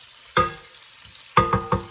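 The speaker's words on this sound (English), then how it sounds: "we want to saute until the onion is a little bit soft" Onion sautéing in a pan for a Chinese stir-fry, heard as three sharp clattering bursts of spatula-on-pan stirring over a faint background sizzle, one near the start and two close together at the end.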